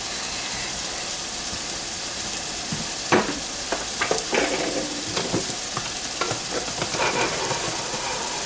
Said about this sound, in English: Cook those onions.